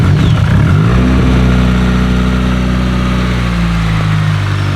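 A rear-wheel-drive Honda Civic engine revs up loudly, then holds a steady, throaty drone with strong low harmonics from the exhaust, close by and continuous.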